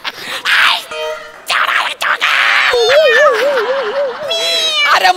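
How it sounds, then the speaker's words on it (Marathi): Several cats meow repeatedly, one with a long wavering cry, loud and close amid overlapping talk and shouting from people nearby. "अरे मांजर चावत नाही, मांजर नख पण मारते."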